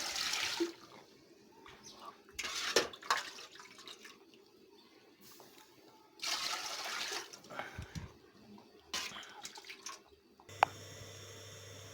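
Water poured from a vessel into a cooking pot of rice on a village stove, heard as several separate splashing pours with pauses between them, fairly quiet and close, with no speech over it.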